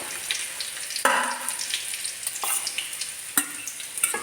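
Crushed garlic sizzles in hot oil after rice has browned, a steady crackling fry broken by several sharp stirs and scrapes of the spoon.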